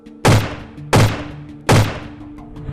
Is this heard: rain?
no